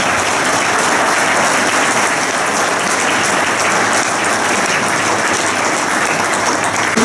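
A crowd at a French municipal election campaign meeting in Béthune gives sustained, loud, dense applause to volunteers, steady and unbroken throughout.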